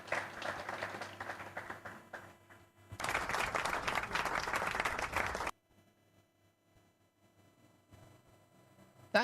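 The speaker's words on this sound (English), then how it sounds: "Participants, please give another round of applause for Dr." Audience applause at a public policy dialogue, starting as a modest patter, swelling into fuller clapping for a few seconds, then cutting off abruptly into near silence.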